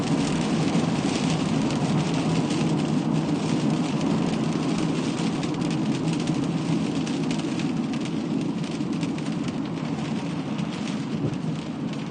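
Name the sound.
rain falling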